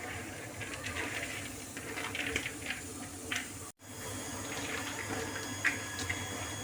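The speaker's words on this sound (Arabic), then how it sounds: "راح نزيد لها الكاس الثالث تاع الماء" Water pouring from a glass into dry trida pasta with red sauce and lamb, a steady close hiss and trickle that runs continuously, with a brief break partway through.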